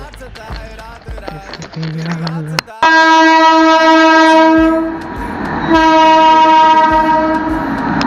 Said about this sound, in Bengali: ট্রেন পার হয়ে গেল